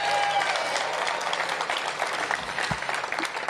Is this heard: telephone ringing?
no